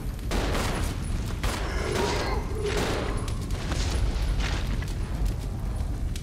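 Gunfire in the Resident Evil 0 video game, a dense and continuous run of loud shots and booming impacts with no clear gaps, sitting over a heavy low rumble from start to finish.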